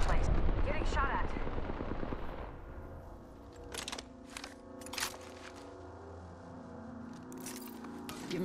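Gunfire from Apex Legends is heard as a loud rush at first, then scattered sharp cracks and short bursts at moderate distance over quieter game ambience.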